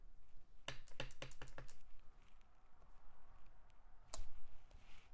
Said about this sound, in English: I'm going to stamp the B on my envelope.